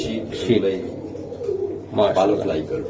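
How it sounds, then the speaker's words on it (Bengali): White Budapest (Hungarian) pigeon chicks coo in soft, low, throaty bursts at a farm, heard close up and mixed with people talking nearby. "এগুলো হলো একদম অরিজিনাল হোয়াইট হোয়াইট যে হাঙ্গেরিয়ান পেস্ট কবুতর ওগুলার বাচ্চা"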